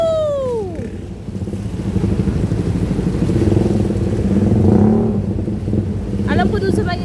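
Motorcycles ride through a flooded road, their engines rumbling and revving steadily with splashing clatter, while several people talk and exclaim close by.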